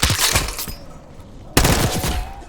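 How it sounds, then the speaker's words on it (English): Rapid bursts of automatic gunfire in Call of Duty: Black Ops 6 rattle loudly, pausing briefly before another volley erupts, harsh and close. "You hearing gunfire? Yeah, sounds like it's coming from one of the lower floors."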